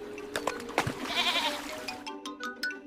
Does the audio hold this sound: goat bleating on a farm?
yes